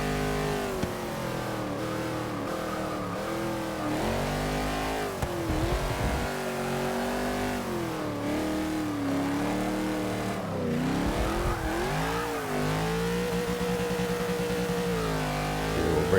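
Race car engine lapping Le Mans on the old Mulsanne circuit in Forza 6, a loud continuous roar that rises and falls in pitch through repeated gear changes and throttle lifts, with no voices over it.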